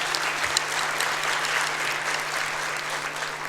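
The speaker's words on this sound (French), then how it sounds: "Vous pouvez l'applaudir." A music-hall concert audience gives a pianist a warm, continuous round of applause, dense clapping from many hands at steady loudness throughout, with a faint low hum underneath.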